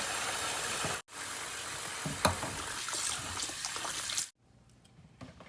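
Warm tap water runs steadily while pig intestines are being cleaned, a broad close rush broken by a brief cut, then dropping to quieter trickles and splashes near the end.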